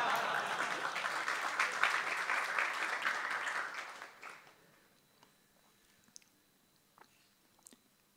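Audience applause at a spiritual festival in India, dense clapping for about four seconds that then fades out, leaving a quiet room with a few small scattered knocks and clicks.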